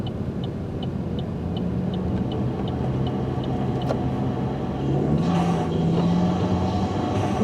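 Chevrolet Cruze engine floored while slipping in snow, traction control cutting in, a rumbling drone that climbs in pitch toward the end, with a faint rhythmic ticking early on.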